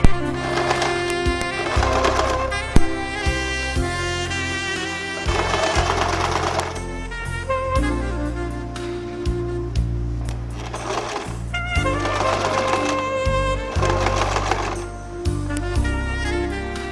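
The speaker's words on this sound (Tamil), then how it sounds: "டர்ன் பண்ணிட்டு இதை வந்து ஒரு டாப் ஸ்டிச் கொடுத்துருங்க." A sewing machine top-stitches a churidar top, its needle running in long steady mechanical bursts with short pauses in between, loud and close with no talking.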